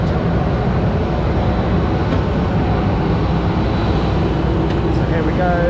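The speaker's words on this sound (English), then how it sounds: "Planes are very loud." Steady, loud engine roar fills the cabin without a break, a broad low rumble with faint high whines drifting over it.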